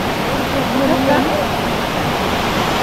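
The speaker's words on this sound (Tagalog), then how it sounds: "Ito yung 3rd falls at ito naman yung 4th falls." A waterfall on a mountain trail at Mt. Bulakawan roars close by in a constant, loud rush, and a voice speaks briefly over it.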